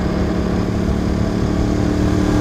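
A Ducati Monster 821 motorcycle engine runs close and loud, a steady throbbing drone with a slight rise in revs over a couple of seconds.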